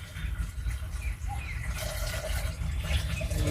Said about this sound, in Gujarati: પાણી ભર લાવું